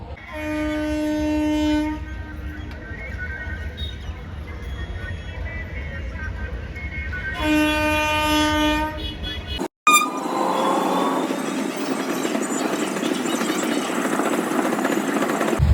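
A train rumbles past nearby, sounding its horn in two long blasts, then the sound cuts abruptly to steady traffic noise.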